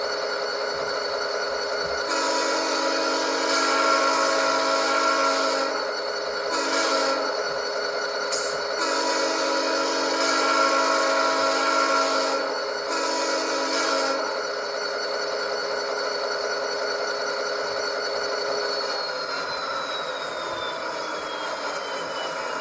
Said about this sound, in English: Here's the custom horn.